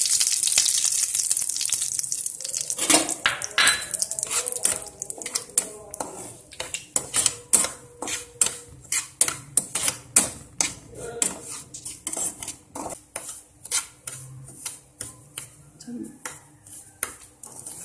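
Semolina roasting in hot ghee while a metal spoon stirs and scrapes the pan, a rapid series of sharp clinks and scrapes over a faint sizzle, close and busy.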